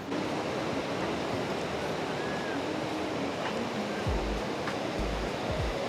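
Steady broadband wash of ocean surf at a beach, continuous and fairly even with no distinct breaks, plus a few brief low thumps like wind or handling bumps near the end.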